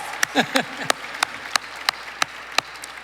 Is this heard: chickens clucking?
no